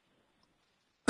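A single short cough bursts out close and loud at the very end after near silence.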